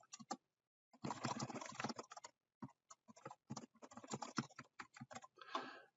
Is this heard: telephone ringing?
no